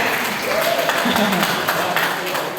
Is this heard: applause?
yes